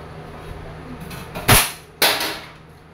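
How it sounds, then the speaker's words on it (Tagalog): Umarex Legends S25 .177 pellet airgun revolver fired single action, two sharp cracks about half a second apart, each with a short tailing echo, loud and close over a quiet room background. "Airgun revolver, pellet version, 177, single and double action."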